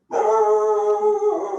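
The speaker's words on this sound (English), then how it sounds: "Sorry about my dog." A pet dog gives a single sustained, tonal howl lasting over a second, close and fairly loud, rising sharply from silence and easing off toward the end, alone with no talk.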